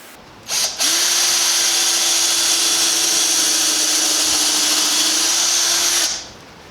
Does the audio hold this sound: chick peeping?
no